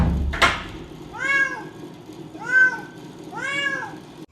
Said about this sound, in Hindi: वो पूरी रात उसने म्याऊं म्याऊं की, पूरी रात हम लोग सोए नहीं हैं।